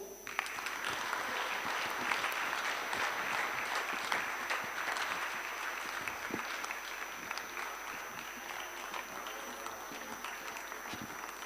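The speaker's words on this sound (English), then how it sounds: "let us give a round of applause to all the speakers" An audience at a youth forum plenary session applauds the youth speakers with a continuous, even wash of clapping that stays steady for over ten seconds, heard at a moderate distance and slightly faint.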